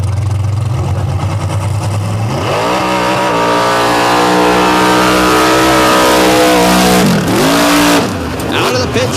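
A lifted, nitrous-fed truck roars hard and loud at a racing event, its engine pitch climbing steadily under load, then dipping briefly and rising again as it bounces out of the pit, while a voice talks over it.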